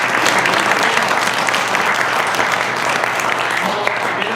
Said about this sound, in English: let's just have a big round of applause for Andrew.